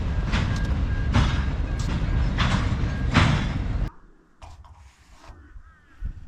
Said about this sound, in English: Coal train coming through Dalby.